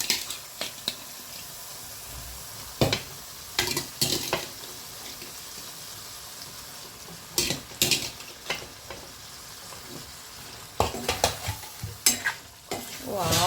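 Boiled drumsticks (moringa pods) going into a sizzling gravy for a rasa bhaji, stirred with a utensil scraping and clanking against the pan in bursts over a continuous close hiss.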